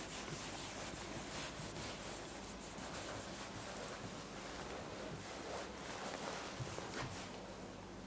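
A classroom board being wiped clean of trigonometry working, with a continuous close rubbing and scrubbing swish lasting several seconds and no talk over it.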